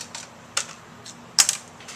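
Scissors snip paper while a box is being cut out in a quiet room: three or four short, crisp clicks spaced irregularly, close and fairly faint.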